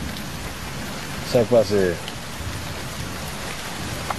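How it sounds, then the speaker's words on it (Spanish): Steady rain falling, a constant broadband hiss throughout, with a brief spoken voice rising above it midway. "Está lloviendo."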